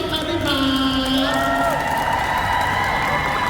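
Audience applause and cheering at a press event for the Cosmos Bear Music Festival 2024, a steady, loud wash of clapping and crowd shouts with high whoops and screams layered over it throughout.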